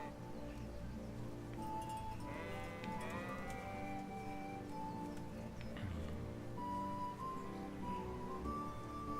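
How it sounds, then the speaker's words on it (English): Sheep bleat repeatedly in a Kingdom Come Deliverance game scene, several distinct calls over a steady low rustling ambience, fairly faint overall and without speech. "Hello, little sheeps."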